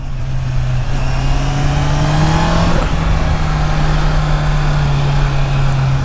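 2026 Honda CBR 650R motorcycle engine pulling hard while riding, a loud steady drone rising in pitch under acceleration with a brief shift dip, wind rush throughout and no talking.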